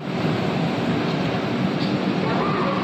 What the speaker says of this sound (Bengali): বর্ধমান জাংশন ছেড়ে ট্রেন এগিয়ে চলেছে